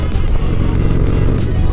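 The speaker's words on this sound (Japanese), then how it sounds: "ロサンゼルスでバイクで走るのは本当にね気持ちいいっすね。" A Harley-Davidson Dyna motorcycle riding through Los Angeles traffic, its engine a loud, close, continuous low rumble with a steady throb and wind rush.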